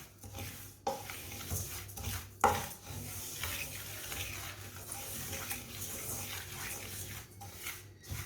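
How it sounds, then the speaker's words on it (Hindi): White sesame and poppy seeds dry-roasting in a pan while a spoon stirs them: quiet, steady scraping and a faint crackle, broken by a few sharper knocks of the spoon against the pan. "इसे भी चम्मच चलाते हुए भूनना।"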